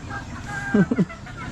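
Several short clucks from backyard chickens stand out in the middle of the clip, close and moderately loud over a steady outdoor background.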